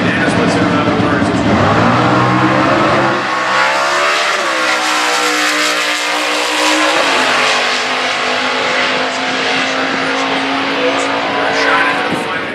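A Corvette V8 stock-class race car with an LT-family engine accelerates hard at a drag strip, its loud, sustained engine roar climbing in pitch and holding steady under crowd noise and announcer-style talk.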